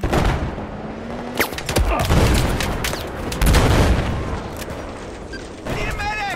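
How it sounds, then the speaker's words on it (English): Grenade blast and rapid gunfire in the video game Battlefield 4, loud dense bursts of shots and booms filling the whole stretch, with shouted voices mixed in. "Throwing grenade!"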